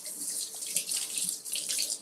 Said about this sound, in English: Let me just give this a rinse.